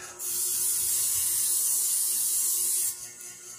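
A steady hiss from a spray bottle runs for about three seconds, close and fairly loud, then cuts off abruptly.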